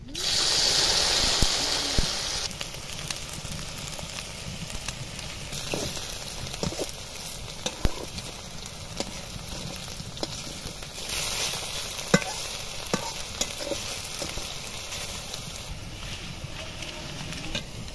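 Okra frying in hot white oil in a wok, a steady bubbling sizzle that starts loud and settles, with occasional sharp clicks and scrapes of a utensil.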